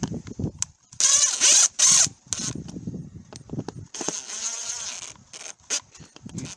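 A power driver tightens screws on the housing of a camper RV exterior light in short, buzzing bursts, separated by quiet gaps and small handling sounds.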